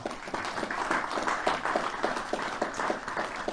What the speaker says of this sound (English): I want everybody to offer Captain Moorfield a round of applause for his leadership on that.